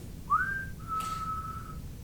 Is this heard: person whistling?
yes